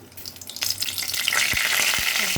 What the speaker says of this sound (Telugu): ఆవిరి కాగిన తర్వాత పోపుకి ఆవాలు